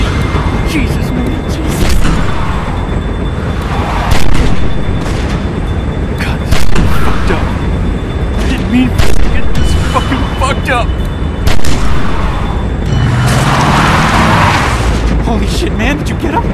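Gunfire in The Walking Dead 400 Days, loud, repeated sharp shots and booming blasts over a dense, chaotic backdrop, with voices shouting throughout.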